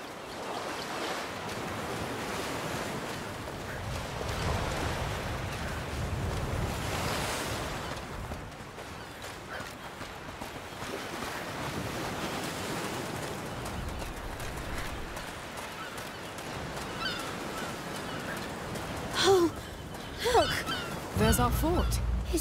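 Sea waves wash against the coast in A Plague Tale: Requiem, a steady surf rumble running through the whole stretch beneath game ambience, with a few sharper bumps near the end.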